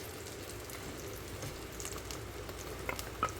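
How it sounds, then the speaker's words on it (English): Garlic sizzling in melted butter in a pan, a soft steady crackle and hiss at low volume with a few brighter pops near the end. "Okay, I'm going to add in my garlic now."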